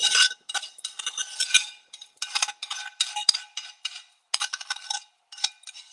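Repeated scraping strokes of a spatula scraping caramel from a Gordon Ramsay metal pan, short bursts with brief pauses, close and fairly quiet.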